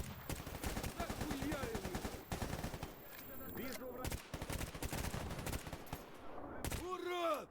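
Rifle fire in S.T.A.L.K.E.R. GAMMA rattles in rapid bursts of sharp, close shots with brief pauses between volleys, mixed with faint game ambience and other noise.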